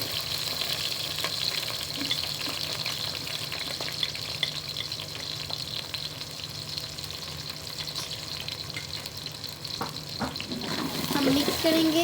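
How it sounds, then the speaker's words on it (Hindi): Chopped onions fry in hot oil in a pan with a steady, close sizzle that runs throughout, with light stirring and clinks of a utensil near the end. "जब ऑयल अच्छी तरह से गर्म हो जाए तो अब हम उसमें ऑनियन डाल देंगे"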